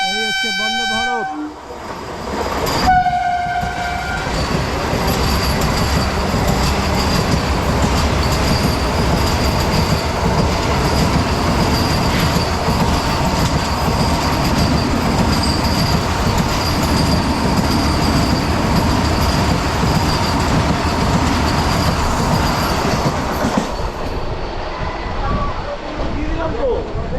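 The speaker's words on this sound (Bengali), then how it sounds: "জলপাইগুড়ি হাওড়া বন্দে ভারত। এই হচ্ছে বন্দে ভারত।" A Vande Bharat express train on the Jalpaiguri–Howrah route runs at speed, heard from inside as a loud constant rumble of wheels and rushing air, opening with a short horn toot and wheel squeal.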